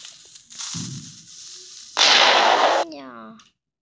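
A TNT cannon fires and explodes in Minecraft, giving a loud, sharp blast with a sustained roar that cuts off abruptly after a few bursts of game noise, with a voice briefly present.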